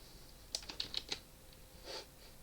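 A few quick keystrokes on a computer keyboard while entering a value in animation software, a short cluster of close, light clicks followed by one softer tap in a quiet room.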